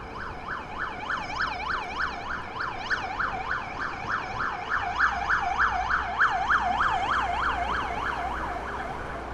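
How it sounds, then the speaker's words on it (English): An ambulance siren wails, rising and falling in steady, repeating sweeps, fairly close and loud, continuing for several seconds over low New York City street rumble. "ambulance is coming through."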